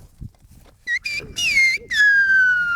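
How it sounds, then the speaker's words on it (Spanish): Silbo gomero whistled language carried across a rocky ravine: a series of clear, shrill whistles with rising and falling pitch glides, starting as short bursts and ending in a long held descending tone, loud over faint background noise. "Se van a comunicar con el idioma de silbitos, el silbo gomero."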